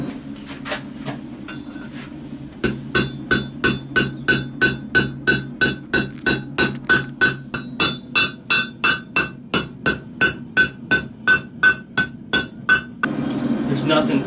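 A blacksmith hammers metal on an anvil at a forge, with a long run of sharp, ringing, evenly spaced blows close by, preceded and followed by a few looser strikes.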